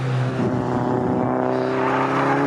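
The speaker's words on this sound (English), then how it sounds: "and then the blue BMW going through in third place, Anton Martin." Saloon racing cars, including a blue BMW, roaring past at the Snetterton circuit, a loud, steady engine drone with rising and falling pitch as the cars go by, close and without talking.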